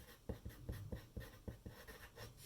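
Pen or marker writing a title on a paper mind map, heard close and quiet as a series of quick rhythmic strokes and taps, with no talking.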